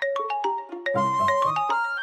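A phone ringtone plays a bright electronic melody of quick, chiming notes, repeating its short tune close by.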